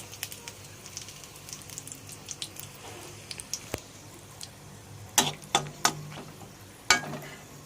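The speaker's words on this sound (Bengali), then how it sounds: "শুকনো লঙ্কা ফোড়ন দিয়ে দিলাম" Dried red chilies tempering in hot oil in a pan give a faint background sizzle broken by scattered sharp pops and crackles, which grow louder and more frequent toward the end, close by with no voices.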